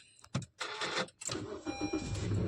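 A car engine being started with a push button: a few short mechanical clicks and whirs, then the engine catches and settles into a quiet low idle, close inside the car.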